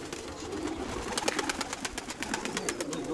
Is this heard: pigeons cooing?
yes